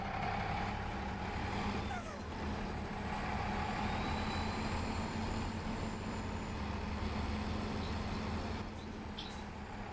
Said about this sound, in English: Backing out onto a main road, never a good idea